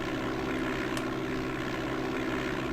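Steady propeller-aircraft engine drone in DOS Flight Simulator 5.1, a constant low hum with a broad hiss on top, holding level and continuous throughout.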